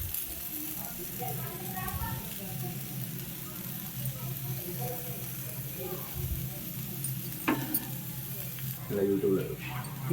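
Paneer dosa cooking on a hot pan gives a soft, continuous sizzle with occasional scrapes, heard under ongoing speech.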